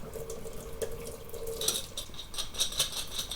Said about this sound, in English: All right, I'm gonna rinse pretty good.